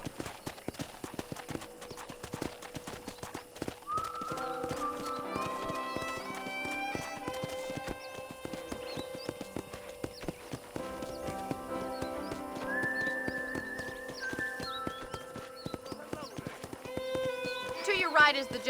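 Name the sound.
horse galloping, clip-clop hooves in Red Dead Redemption video game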